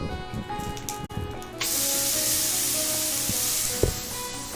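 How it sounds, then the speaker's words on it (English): Food hits a hot pan with sauce and erupts into a loud, sustained sizzle, a close, dense hiss that holds steady after a few quieter clicks and handling sounds. "Let's try and get that sizzle sound."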